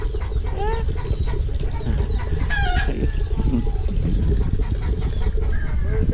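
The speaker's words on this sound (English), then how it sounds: "Oh, you have a rooster farm also. Wow, I didn't know that. I hear them over there." Roosters crow and chickens cluck outdoors, several birds calling at intervals over a steady background of farmyard noise.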